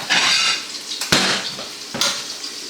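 Seared chicken thighs for pollo guisado are lifted out of a pan: a few sharp clinks of utensil against pan, with a soft frying hiss underneath and no talking.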